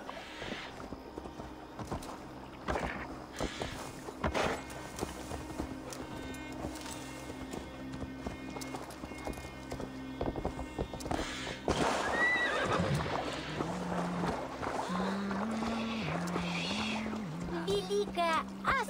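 In Assassin's Creed Valhalla, a frightened horse whinnies and snorts while its hooves clip-clop steadily, layered over game music and ambient effects.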